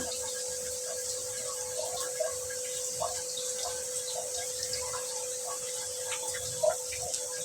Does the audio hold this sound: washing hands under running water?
yes